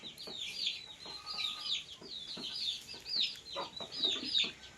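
Several domestic chickens cluck and chatter nearby, overlapping bursts of clucking continuing steadily without pause.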